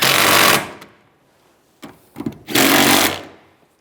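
A power tool tightens the rear seat bolts in a 2007–2013 Chevy Silverado, two loud bursts of whirring separated by a pause with a few short clicks and rattles between.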